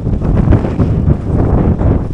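Strong sea wind blows at a seaside flat in Puri, loud low rumbling gusts buffeting the microphone continuously throughout.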